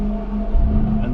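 An Aston Martin Vantage engine fires up and revs at Silverstone, a loud, close, steady low rumble lasting about a second with no talking.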